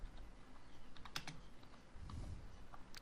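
Computer keyboard typing a postal code search, quick quiet clusters of key clicks in a calm room.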